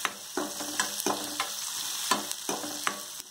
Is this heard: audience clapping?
no